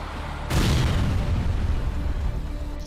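A Hezbollah attack on an IDF surveillance center: a sudden deep boom about half a second in, then a loud, sustained rumbling roar that stays heavy and distant-sounding to the end, with no voices.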